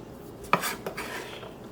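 A kitchen knife chops rinsed fermented black beans on a board. Two quick, close knocks about a third of a second apart give light clattering with a slight metallic edge, with no talking.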